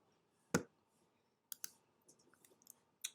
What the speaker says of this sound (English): I'm just going to right click it